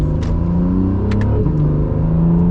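A lightly modified Acura NSX supercar with an aftermarket exhaust accelerates, its engine note a loud, steady harmonic drone that climbs in pitch, heard close from inside the car.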